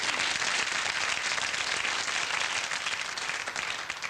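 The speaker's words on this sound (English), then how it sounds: "Now, that normally gets applause." Steady, dense applause from a television talent contest audience at a 1979 final, the clapping holding evenly throughout and slightly distant.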